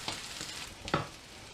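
Fish pan-fries in a hot pan, a continuous close sizzle with a few sharper crackles and spits breaking through.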